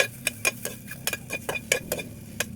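Hotdog pieces are stir-fried in a pan without oil, a spatula clacking and scraping against the metal in quick irregular taps, close and clear with a faint sizzle underneath.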